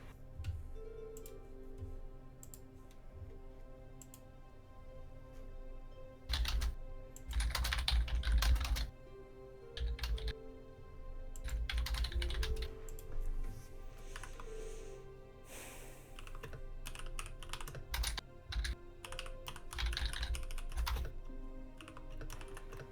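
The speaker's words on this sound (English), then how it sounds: "keyboard ASMR?" Rapid clicking of computer keyboard typing, close to the mic, coming in uneven bursts with short pauses, some louder thumping clusters, and a few faint breaths between runs.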